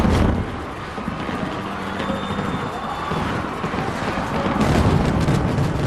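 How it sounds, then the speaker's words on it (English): Loud, continuous rumbling crackle of fireworks exploding at an AMA Supercross championship in Las Vegas, with broad noisy bursts, swelling toward the end over a roaring crowd-like wash. "The fireworks go off."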